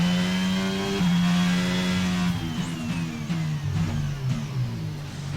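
An F1 car in the video game F1 22 at the Bahrain GP on medium tyres, its engine droning high and loud, then the pitch sweeps and steps up in rapid gear changes as it powers out of a corner.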